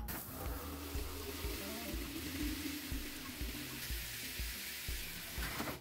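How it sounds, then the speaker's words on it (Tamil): Water pours steadily into a bucket filled halfway, a continuous rushing, hissing stream close by with faint low knocks underneath and no voices. "இப்போ வாளியில் பாதி அளவுக்கு தண்ணி நிரப்பிக்கலாம்"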